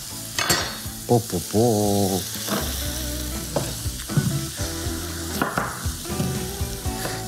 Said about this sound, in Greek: πάνε και οι πατάτες μέσα, εδώ, για το σοτάρισμα